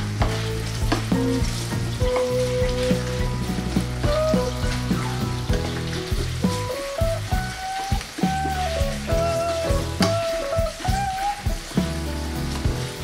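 Jalapeños sizzle in a hot pan while being cooked for salsa verde, a continuous crackling fry with occasional stirring, heard beneath steady background music.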